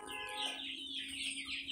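Chickens on a small family farm, a hen with a young brood, clucking in a steady run of close, moderately loud calls with no talk over them.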